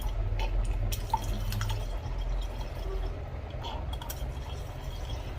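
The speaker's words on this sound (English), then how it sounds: "So I'm adding distilled water" Distilled water trickles into a face wash mixture being weighed on a scale, a faint, thin pour with scattered soft drips and small splashes against a low background hum.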